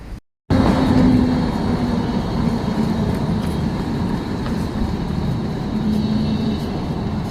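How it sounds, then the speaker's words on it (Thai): A tram rolls past in a city street as people run to board it, a loud steady rumble with rail hum that starts abruptly and holds throughout, faint tonal squeals now and then. "นี่คือรถรางนะคะ ผู้คนกำลังวิ่งไปขึ้นรถ"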